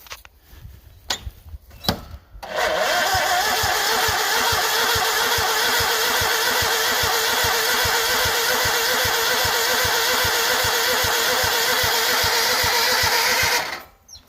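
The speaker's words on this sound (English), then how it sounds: "Man, those motors have such a weird sound to them." An old tractor engine is cranked and catches after a couple of brief tries, then settles into a loud, steady, chugging idle with a rapid even thump before shutting off at the end.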